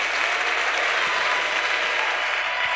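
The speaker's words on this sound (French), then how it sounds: "On continue à acclamer notre Dieu." A church congregation at a Sunday service claps together in a dense, steady wash of applause that continues without a break, with no voices standing out.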